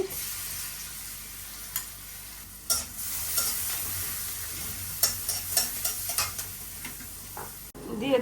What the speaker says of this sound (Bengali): এই যে এখানে দিয়ে দিলাম বাটার একটু তেলও দিয়ে দিই দিয়ে দিলাম পেঁয়াজ কুচি